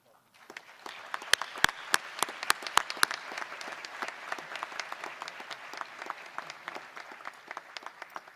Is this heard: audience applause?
yes